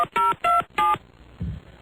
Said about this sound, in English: Maybe I'll just call Ken